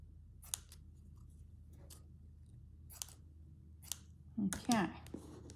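Scissors trim a Japanese rice bag in a craft room: a series of sharp, separate snips about a second apart, close and crisp, ending in a quick double cut with a faint hum beneath.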